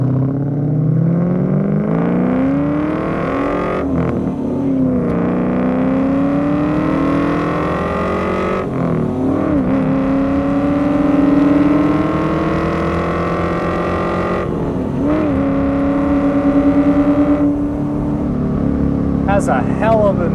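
A 1994 Ford SVT Cobra's powerful engine revs and pulls hard through the gears, its deep exhaust note climbing in pitch between shifts, loud and close.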